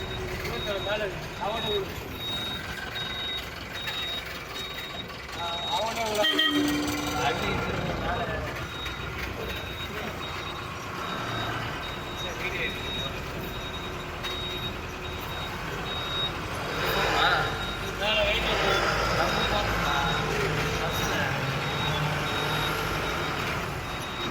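Buses idle and move around the Nilakkal bus camp at night, with an intermittent high reversing beep sounding over the engine rumble and busy crowd noise while people talk nearby.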